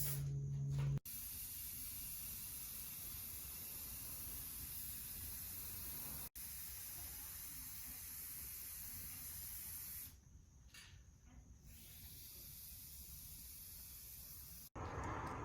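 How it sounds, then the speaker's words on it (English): A spray can hisses steadily onto furniture being given a mirrored finish, laid on in long even coats with a few short pauses and clicks between passes, close to the microphone. "I'm going to spray nice even coats."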